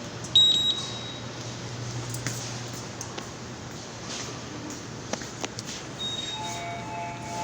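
An electronic warning alarm beeps in a Seoul subway station concourse, with thin, repeated tones standing over steady station hum and some scattered clatter.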